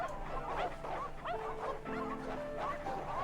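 Stray dogs barking and yipping near a phone booth, several overlapping short barks and whimpering yelps at moderate distance over a steady low hum.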